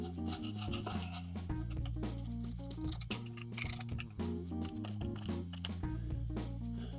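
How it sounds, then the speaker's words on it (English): Loose paint being scraped off a boat outdrive with a paint scraper, rasping strokes heard faintly beneath louder background music. "Let me go ahead and get this scraped off."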